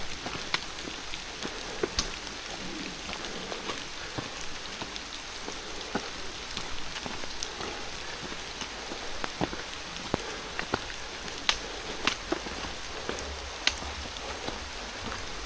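Steady rain falling outdoors, a dense even patter with scattered louder drops striking close by, continuing with no voices over it.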